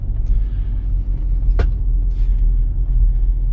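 A car drives along a city street during a driving lesson for an exam: a steady, close engine and road rumble runs throughout, with one brief sharp click partway through.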